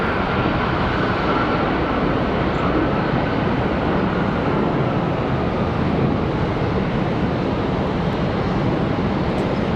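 An Etihad Airbus A350-1000 airliner bound for Abu Dhabi roars on departure at Charlotte Douglas International Airport, a loud, steady broadband jet rumble that holds constant throughout with no voices.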